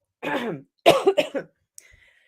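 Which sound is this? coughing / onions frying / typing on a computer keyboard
coughing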